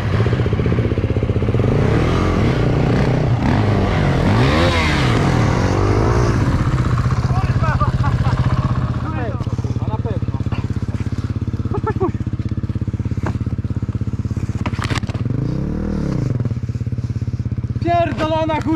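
KTM SX-F 450 dirt bike engine revving hard while stuck on a steep off-road hill, loud continuous engine roar with rising and falling revs, clattering, and people talking over it.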